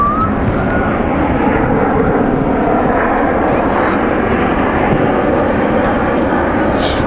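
Airplane on the flight path over a Sydney beach, a steady broad roar that holds loud throughout the clip, with faint voices underneath.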